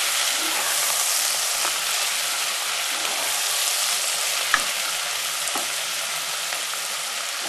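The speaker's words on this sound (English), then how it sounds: "And then add your Brussels sprouts. Stir that to coat them." Brussels sprouts for a butter bean soup sizzle steadily in hot fat in a pot as they are stirred to coat them, a continuous close frying hiss with a few faint scrapes and knocks.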